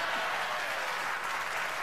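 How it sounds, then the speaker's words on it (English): A studio audience applauds on cue for a celebrity storyteller on a TV show, a dense, steady wash of clapping from start to finish with no voices over it. "I think you're supposed to applaud now, you idiots."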